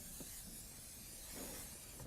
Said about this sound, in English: You want to just spray it, or like I said, butter.